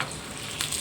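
Spices tempering for gongura pickle sizzle steadily in hot oil in a pan, a continuous close frying hiss with a brief brighter burst near the end, no talking.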